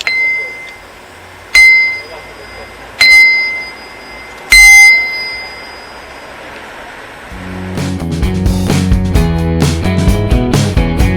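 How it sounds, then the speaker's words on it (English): Handbell or hanging bell struck three times at even intervals, each ring loud and close with a bright decaying tone, followed by a denser burst of clanging bell tones and street ambience. "I really want to ring one of these bells."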